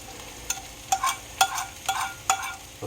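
Vegetables stirred and frying in a hot pan, with a steady sizzle punctuated by about six sharp scrapes and clatters of the stirring utensil at roughly half-second intervals, close and fairly quiet.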